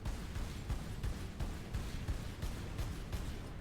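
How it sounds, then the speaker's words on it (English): Heavy bolter gunfire from a Space Marine video game thuds out in a steady series of booming shots, muffled and fairly quiet, repeating at an even pace. "next game, the bolter better sound like this."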